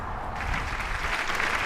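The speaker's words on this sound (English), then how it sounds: "Let's welcome Francesca to the show with a big round of applause." A studio audience applauds as a guest model is welcomed onto a gun-themed show, a fairly faint, steady patter of clapping that swells slightly toward the end.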